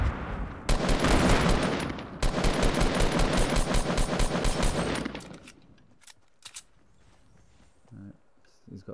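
Fortnite gunfire pours out in two long, dense bursts of rapid automatic shots, loud and close, then fades to a few scattered clicks and quiet movement.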